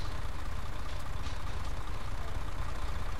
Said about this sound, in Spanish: El camión si acaba de llegar mi amigo, lo dejó prendido el tipo.